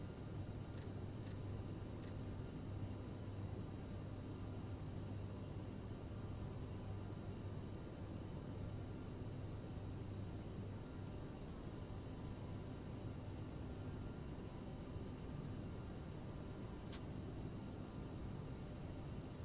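Steady, broad roar of a CRJ900 jet climbing after takeoff in Microsoft Flight Simulator, constant and unchanging throughout with a low engine hum and a few faint clicks, no voices.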